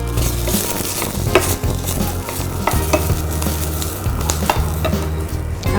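Bell peppers sizzle and fry in a hot pan for a sweet and sour tofu dish, loud crackling spatter broken by repeated scraping stirs and tosses, with no talking.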